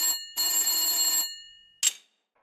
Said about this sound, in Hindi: एक बार फिर फोन की घंटी बजती है।